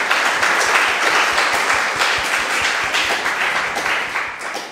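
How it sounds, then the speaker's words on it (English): An audience at a typography memorial lecture gives a burst of applause. Dense, continuous clapping from many people starts loud and slowly fades as the hands taper off. "And I think we have got a couple of... huge clap to David."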